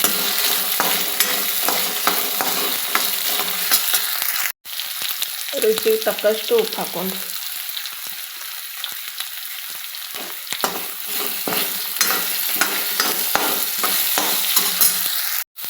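Peeled, chopped potatoes frying in a pan give a steady loud sizzle with repeated spoon stirring and scraping, and a short spoken comment partway through.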